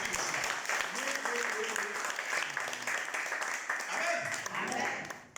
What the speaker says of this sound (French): Il faut acclamer le Seigneur.